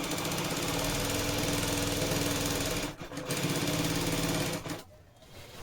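Sewing machine stitching the side seam of a kurti, a loud rapid mechanical clatter running steadily with a brief pause midway before slowing and stopping near the end.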